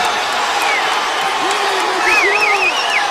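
A boxing crowd stands and cheers at a fight, a loud, sustained roar of voices and whoops, with a commentator's voice running over the noise.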